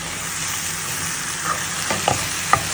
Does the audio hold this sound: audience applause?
no